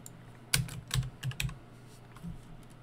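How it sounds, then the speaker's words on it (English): Rapid bursts of computer keyboard typing, several quick clustered keystrokes close to the mic followed by a lone tap, with no talk over them, while playing The Isle online. "Probably hear me mashing my keyboard right now."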